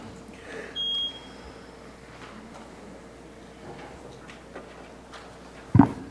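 Electronic timer beep at a city council meeting podium, a single short tone near the start in a quiet room, followed later by a brief thump.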